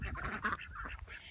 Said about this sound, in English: Off to our left is the duck and chicken run.